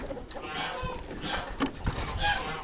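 Chickens leaving a village coop make soft clucking and cooing calls close by, with light shuffling and a few knocks against a low background hum.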